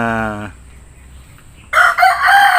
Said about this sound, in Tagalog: Cobra chicken.